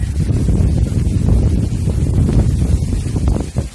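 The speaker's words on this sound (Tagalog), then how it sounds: "Grabe yung hangin." Strong, relentless typhoon wind blasts the microphone on a farm in a heavy, continuous low roar, with faint rustling beneath and a brief dip at the end.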